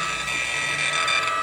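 An Xprinter T80A receipt printer cuts paper with a short, steady mechanical whir and grinding buzz that runs evenly for about a second and a half, close and fairly loud, with no one talking.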